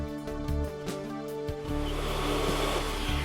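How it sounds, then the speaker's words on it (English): A hot air welder blows steadily while heat welding a Resitrix EPDM corner patch on a flat roof, a continuous airy hum with a few soft bumps as the tool works the membrane. "Heat weld the Resitrix corner patch."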